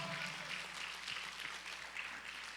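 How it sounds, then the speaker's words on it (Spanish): A church congregation claps together in a dense, steady wash of applause that carries on without pause, with no voices above it. "Dele palmas fuerte al Señor, hermano."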